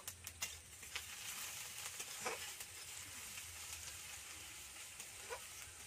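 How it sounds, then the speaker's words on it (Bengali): White sesame seeds with curry leaves frying in a pan, a steady close sizzle with soft crackles and occasional stirring scrapes, no one talking. "সাদা তিলটাও আমি দিয়ে দিলাম। দিয়ে এটাকে একটু আমি ভেজে নেব।"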